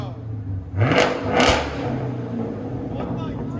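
A car fitted with Dynomax race bullet exhausts revs hard twice in quick succession, with loud, close, rasping bursts that then settle into a rumbling idle, while people talk over the engine.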